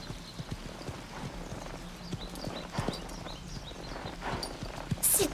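Hooves of Patch, a cartoon horse, clip-clop in a steady walking rhythm at moderate loudness, with no one speaking over them.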